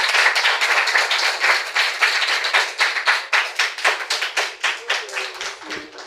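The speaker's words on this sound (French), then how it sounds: "pour les applaudissements s'il vous plaît" A crowd gives a round of applause, dense clapping that stays loud at first and then thins into scattered claps before fading.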